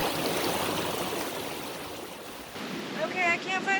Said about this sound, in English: listening to the sound of the water rushing by us